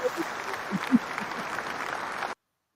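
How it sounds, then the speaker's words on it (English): An audience claps in a brief, fairly faint round of applause that cuts off abruptly after about two seconds. "I would like to give a round of applause to that man"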